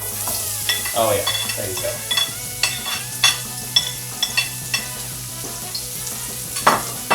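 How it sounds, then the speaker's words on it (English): Onions hiss and crackle steadily in a hot pan, with a few sharp spatula scrapes and clinks through the sizzle and a brief spoken remark near the start. "let's add these onions. Hope for a good sizzle here."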